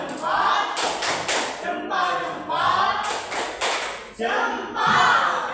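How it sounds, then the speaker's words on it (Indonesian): Children doing thumb clapping in a classroom, a series of loud dull claps and thuds in uneven bursts with voices mixed in. "Ternyata semuanya tepuk jempol."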